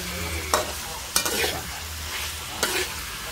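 Eggplant being stir-fried in a pan alongside ground beef: a constant close sizzle broken by three sharp spatula scrapes and clacks against the pan, with no voices.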